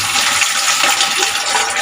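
Water gushing steadily from the valve of a coin-operated water vending machine into a bucket, a loud continuous hissing pour with no pauses.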